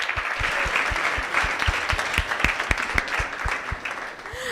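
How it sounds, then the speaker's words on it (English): Audience at a high tea book event applauding in a steady, sustained round of clapping from many hands, fairly loud and continuous throughout, with no talk over it. "A warm round of an applause."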